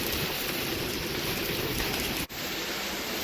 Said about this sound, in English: The hail's almost making it look like it snowed on the trampoline.